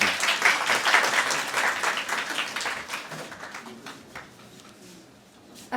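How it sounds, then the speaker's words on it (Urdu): Audience applause fills a university seminar hall, loud and dense at first, then thinning and fading toward the end, with no speech over it. "زوردار تالیاں کر دیجیے گا ان کے لیے"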